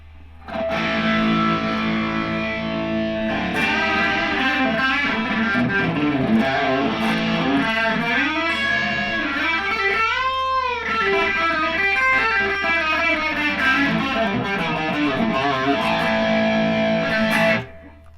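An electric guitar plays through a slap-back echo effect with a distorted, effects-heavy tone, sustained ringing notes and repeating echoes filling a loud, steady passage of about fifteen seconds.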